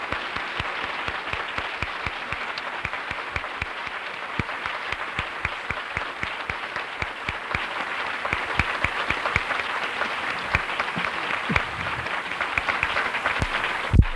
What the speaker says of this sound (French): Oubliez pas ma bonne main d'applaudissements